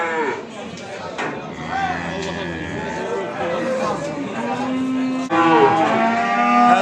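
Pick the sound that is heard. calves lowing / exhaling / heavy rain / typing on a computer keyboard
calves lowing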